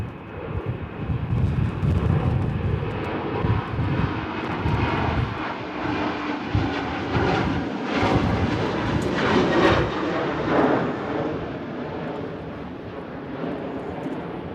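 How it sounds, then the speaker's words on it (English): An airliner arriving at Manchester Airport in strong storm wind, its engines a broad roaring rumble that swells and holds, mixed with gusty wind buffeting the microphone, then slowly fading. "Another arrival coming in though, as the wind picks up."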